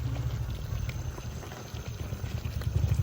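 Mutton is slow-sautéed in a pan for Rajasthani laal maas, making a continuous low bubbling simmer with a soft sizzle. The sound holds steady and close, with no talking.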